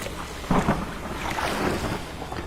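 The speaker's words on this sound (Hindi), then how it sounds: "नाव को खेकर किनारे पर चल दिया।" Oars row a boat across open water, with soft splashing strokes under a steady wash of wind and water noise and no voices.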